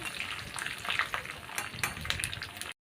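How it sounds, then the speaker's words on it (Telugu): Tempering for rice rava pulihora frying in a pan with curry leaves, a steady close sizzle with brief crackles and stirring, ending in a short silence. "మాడిపోకుండా ఈ పోపును వేసుకోవాలి"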